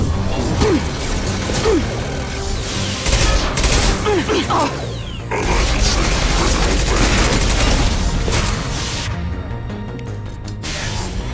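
Heavy weapons fire in a sci-fi video game: a sustained, loud barrage of blasts, crashes and booms layered with mechanical whirs, dense and continuous throughout.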